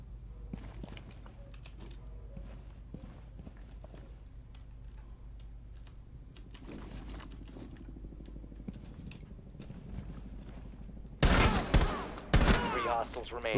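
Gunfire in Rainbow Six Siege: scattered faint shots and clicks under quiet game ambience, then a few loud, sharp bursts near the end, with some speech in the mix.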